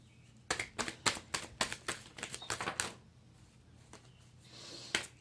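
A quick run of crisp, papery riffles as tarot cards are shuffled, about a dozen sharp bursts close by, then a few scattered snaps after a pause.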